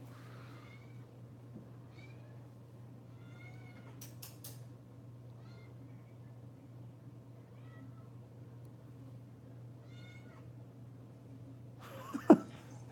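A domestic cat meows a few times, soft, short calls spaced out over a low steady hum, with a sharper louder sound near the end; no speech.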